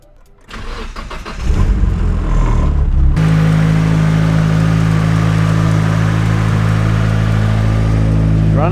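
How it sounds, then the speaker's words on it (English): A Nissan S14 engine cranks with a few rapid chugs, catches, and settles into a loud, steady idle close by. It runs on its own without anyone speaking. "So now we can pretty much fire this unit up and see what it does."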